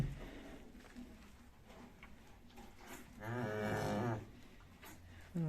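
A pied cow on a farm, about to calve, lets out one loud, drawn-out moo close by, amid faint rustling and background noise.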